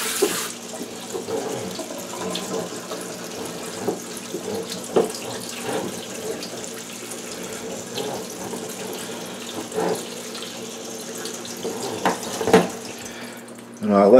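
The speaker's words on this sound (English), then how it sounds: "it goes in a colander now. And you rinse the salt off of it" Running tap water pours over salted cucumber and onion slices for bread and butter pickles in a colander, a steady close hiss with occasional splashes and clatter throughout, with no talking.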